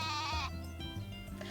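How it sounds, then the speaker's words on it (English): A sheep gives a loud, close, drawn-out bleat, followed by softer bleating and faint background sounds. "Wow, sheep are so chatty."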